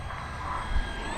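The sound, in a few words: Freewing F-14 Tomcat RC jet doing a touch and go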